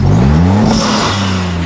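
A Maserati MC20 supercar revs its turbocharged engine up close, a loud sustained roar with rising and falling pitch and steady turbo whine through the burst.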